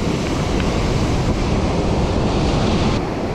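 Large waves crashing and surging on Lake Superior during a blizzard, a loud, continuous roar of surf mixed with buffeting wind noise on the microphone, with no voices.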